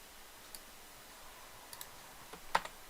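Keys tapped on a computer keyboard, a few light, scattered clicks with one sharper press near the end, alone against a quiet background hiss.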